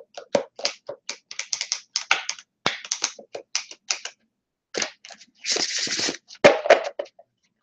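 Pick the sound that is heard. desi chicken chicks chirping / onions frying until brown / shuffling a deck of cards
shuffling a deck of cards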